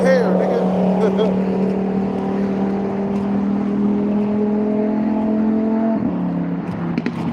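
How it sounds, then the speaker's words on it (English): A black Lamborghini passes nearby, its engine a loud, steady droning hum with a shifting pitch that drops as it goes by, while a person talks over it. "That was a straight up Lambo that just drove by."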